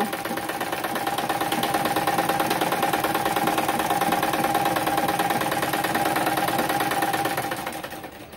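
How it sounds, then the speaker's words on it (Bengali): A sewing machine double-stitches fabric for a one-piece niqab, a continuous fast mechanical whirr with steady rhythmic needle clatter, close and loud, slowing at the very end. "এখানে আমি আবার ডাবল সেলাই দিয়ে নিচ্ছি।"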